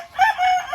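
A turkey calls once from a small, muddy, wet enclosure, a brief, loud, close, strained cry lasting under a second.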